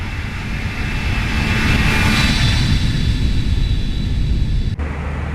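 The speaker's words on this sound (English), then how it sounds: "Let's do a flyby." An Airbus A320 with CFM engines roars past in a flight simulator flyby, a loud steady jet rumble and whine that swells toward the middle and cuts off abruptly near the end.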